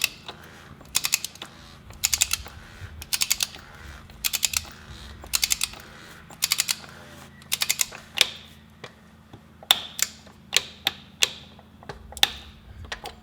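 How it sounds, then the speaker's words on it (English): A torque wrench ratchets quickly to tighten an oil filter on a VR6 Golf, giving close, crisp bursts of rapid clicking in short regular groups with brief gaps between them. "So I'm just gonna do it with the torque wrench,"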